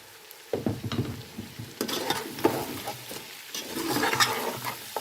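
Spices — red chilli powder, turmeric, cumin powder and coriander powder — frying in a pan for chicken korma, with a steady close sizzle and bursts of stirring scrapes, no talking.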